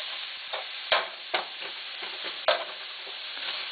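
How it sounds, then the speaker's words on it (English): Ground meat browns in an old Teflon pan, a soft continuous sizzle broken by several sharp scraping and chopping strokes against the pan surface, close by and moderately loud. "Okay, so I am browning up the meat"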